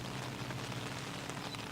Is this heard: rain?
yes